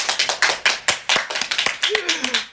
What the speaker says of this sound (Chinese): 鼓掌也行啊，快点儿！